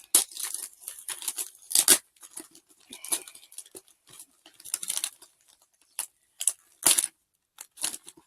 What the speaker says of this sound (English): the very last one we're unwrapping from our shelves